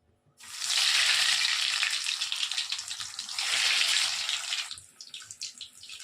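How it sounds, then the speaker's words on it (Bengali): Egg chops go one after another into hot oil, raising a loud, close, broad sizzling rush that swells twice, then fades to a softer bubbling at the end, with no talking. "তেলটা গরম হয়ে গেছে, এবারে একে একে চপগুলো আমি ছেড়ে দিচ্ছি।"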